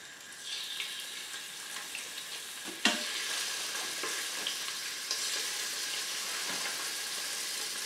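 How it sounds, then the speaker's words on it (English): Steady, close sizzling of beef browning in hot oil in an Instant Pot Evo for boeuf bourguignon, with a sharp clatter near the start and occasional scraping stirs throughout. "I'm just going to drop it into this hot oil. You can hear it sizzling."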